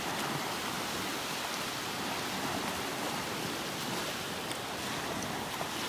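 Ocean waves wash onto a beach in North Naples, Florida, a constant broad roar of surf with no distinct breaks, moderately loud and steady throughout with no voices.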